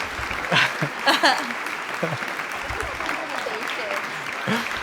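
A studio audience claps and cheers steadily, with voices calling out over the applause.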